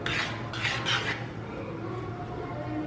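Pasta being tossed with salt and pepper in a pan, a few bright scraping strokes of a utensil against the pan in the first second, then quieter low stirring and rubbing, close and with no talk.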